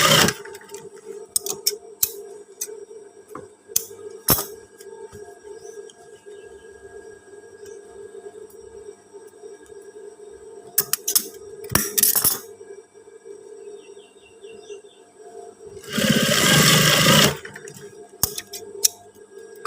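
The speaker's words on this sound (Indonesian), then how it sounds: "Ini juga kita jahit sekalian." Industrial sewing machine stitching long PDL-style trousers, heard in short bursts with a sustained loud run of stitching near the end, amid small clicks and handling noises.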